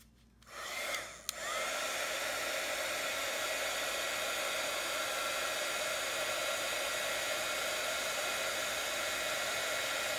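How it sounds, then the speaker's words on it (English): A heat embossing tool blows hot air steadily at close range while melting gold embossing powder on a paper craft piece, a loud continuous hair-dryer-like whoosh starting after a brief click and running unbroken. "And now I'm just going to heat emboss it."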